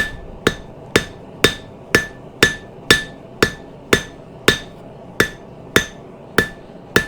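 A hammer strikes hot steel on an anvil while tapering a knife blank during forging: about fourteen sharp, ringing blows at a steady, even pace, close and clear with no talk.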